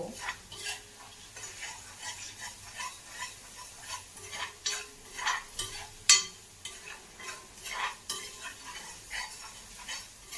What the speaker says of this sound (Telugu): ఇలా 1 మినిట్ ఇలాగా స్టిర్ చేయడం వల్ల ఏమవుతుంది అంటే అడగకుండా ఉంటుంది.